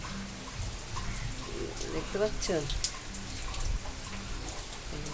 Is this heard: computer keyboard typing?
no